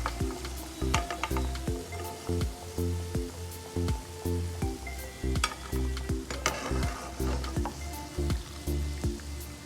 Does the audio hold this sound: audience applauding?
no